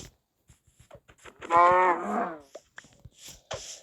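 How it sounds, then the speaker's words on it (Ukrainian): A cow moos once in a video game, long and drawn out, amid scattered clicks and short thumps of game sounds. "Ще одна корова."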